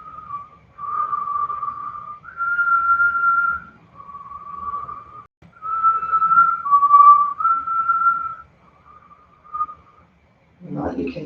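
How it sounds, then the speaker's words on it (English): A single person whistles a slow series of sustained, steady tones through pursed lips, with brief pauses between notes, close and clear, ending with a short rustle. "purse the lips, and whistle"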